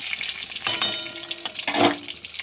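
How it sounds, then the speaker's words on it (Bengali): Bay leaves hit hot oil for tempering, giving a close, bright sizzle with a few sharp crackling pops and spatters over roughly two seconds. "এবারে দিয়ে দেব তেজপাতা ফোড়নে"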